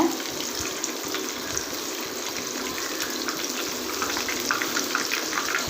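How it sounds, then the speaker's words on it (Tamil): Fish fries in hot oil with a dense, continuous crackling hiss that stays close and fairly loud, with tiny spits popping through the steady wash. "ஃபிஷ் வந்து நல்லா ஃப்ரை ஆகணுங்க அந்தளவுக்கு ஃப்ரை பண்ணிவிடுங்க"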